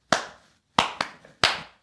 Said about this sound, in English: Want me to keep clapping?